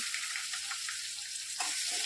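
Mustard seeds and curry leaves tempering in hot oil, a soft continuous sizzle with light crackles, fairly quiet, brief sharper pops near the end.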